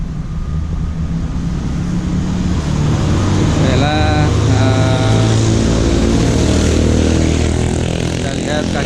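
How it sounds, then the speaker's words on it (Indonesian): An antique orange Bajaj three-wheeler under restoration runs with a loud, rough exhaust rumble close by, revving up midway while someone talks over it. "Ini knalpotnya juga antik, keras suaranya ini."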